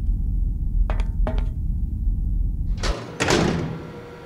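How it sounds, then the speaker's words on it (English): A door in the Syberia video game: two faint clicks of a handle or latch, then a louder heavy creak and thud as it swings open, over a low ambient hum. "I think this is a door."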